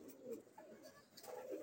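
A pigeon pair, a Sapchila male and a Bagha-cross female, coo quietly in low, throaty pulses, faint and close with no voices.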